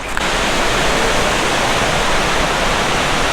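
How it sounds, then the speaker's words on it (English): A Tahiti waterfall roars as a loud, steady broadband rush of falling water, continuous and close, with no voices over it. "There's the waterfall."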